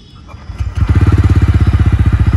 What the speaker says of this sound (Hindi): बहुत ही साइलेंट स्टार्ट है और बहुत ही प्यारा स्टार्ट है, ज़्यादा आपको हार्ड प्रेस करने की ज़रूरत नहीं है इस मोटरसाइकिल को